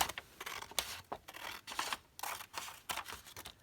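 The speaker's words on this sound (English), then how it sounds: "So I'm just going to cut this down here." Scissors snip through decoupaged sheet music in a rapid series of crisp cuts, close and fairly quiet, with short pauses between strokes.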